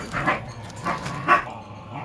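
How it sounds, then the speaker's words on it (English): Dogs yipping and barking playfully in three short bursts, close by, with soft grumbles between. "The dogs are playing."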